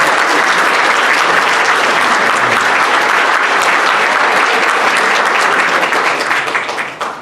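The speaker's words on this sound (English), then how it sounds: "So now we will applaud for everybody, but particularly Shorty and Marcella who stand right next to us." Loud, dense applause from an audience at an athletics heritage gallery induction ceremony, sustained clapping close up throughout that tapers slightly at the very end.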